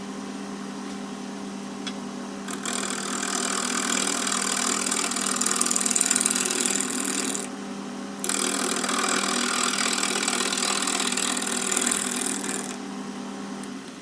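A wood lathe spins a small, slightly punky natural edge bowl at around 1980 RPM while a bowl gouge cuts, a steady motor hum overlaid by two long stretches of hissing, scraping cuts separated by a brief pause.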